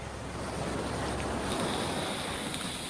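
A fast-flowing creek beside Sandy Valley Road rushes in a steady, loud broadband wash, mixed with wind buffeting the microphone, with no voices.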